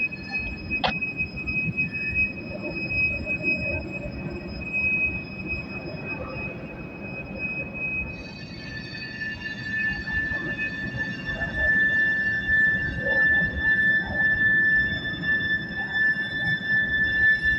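A steady low rumble with high, thin metallic squeals ringing over it as a CSX freight train rolls past at a distance without sounding its horn.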